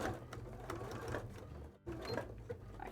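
A sewing machine stitches backward on a cosplay costume in close, rapid whirring bursts, with a brief pause near the middle before the stitching resumes.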